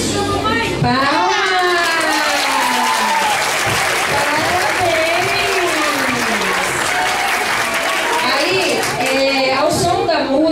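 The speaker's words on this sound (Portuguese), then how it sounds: "Palmas!" A crowd applauds loudly and continuously for about ten seconds at a Mother's Day school performance, with children's singing voices carrying on over the clapping.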